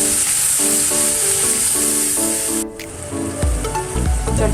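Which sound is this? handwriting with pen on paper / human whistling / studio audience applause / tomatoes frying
tomatoes frying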